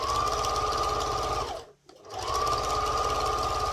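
A sewing machine stitches premade piping onto a cushion cover. It runs in a loud, steady whir, slows to a stop for a moment, then speeds back up.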